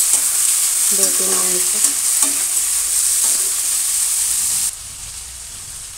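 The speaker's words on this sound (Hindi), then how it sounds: "अच्छे से हम इसको चलाएंगे" Moong and moth bean sabzi frying in a pan, a steady bright hiss with a few clinking stirs early on, then the sizzle drops quieter near the end while someone speaks briefly.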